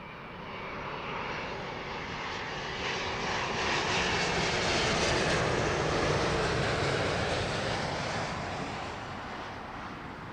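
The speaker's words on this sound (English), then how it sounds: "Big gulping engines on that 777-200." A Boeing 777-200 at Heathrow roars past with its jet engines, a broad steady rumble that swells toward the middle and eases slightly at the end, with no talk.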